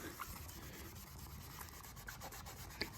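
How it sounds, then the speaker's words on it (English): A polishing disc buffs the plastic gauge screen of a Honda Rancher TRX350 ATV, giving a faint, steady rubbing and whirring drone with small scratchy ticks, continuous and unaccompanied by talk. "Just gonna finish it off with the polishing disc here now."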